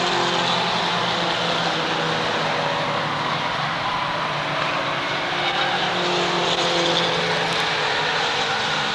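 Four-cylinder mini stock race cars in a feature race at Waterford Speedbowl, a dense, continuous roar of several engines running together, loud and steady with no gaps.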